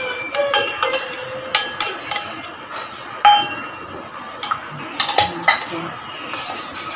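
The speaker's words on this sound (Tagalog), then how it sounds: "We'll mix all our wet ingredients thoroughly." A utensil stirs milk, melted butter and egg for pandesal dough in a bowl, giving repeated irregular metallic clinks and scrapes against the bowl, close and fairly loud.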